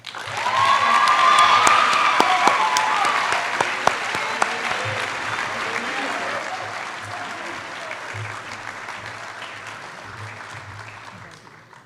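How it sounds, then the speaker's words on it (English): Sustained audience applause fills a high school senior recognition ceremony, loud at first and slowly fading over about twelve seconds, with scattered cheers. "Please give a round of applause for Anthony Cook."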